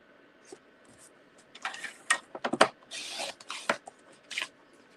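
Cardstock trimmed from 8 1/4 to 8 by 10 inches on a paper trimmer, heard as a string of short, close, crisp sliding and cutting strokes in quick bursts, with faint handling noise between them.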